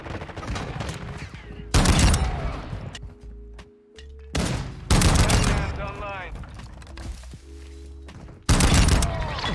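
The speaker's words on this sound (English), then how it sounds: "it's a shotgun with automatic slugs in it" Full-auto slug shotgun fired in a video game, repeated bursts of heavy booming shots with ringing echoes, separated by short gaps with game sounds in between.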